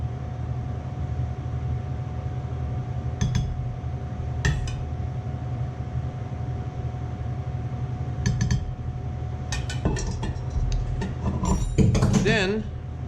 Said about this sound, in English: We're going to ladle a little bit into the bowl.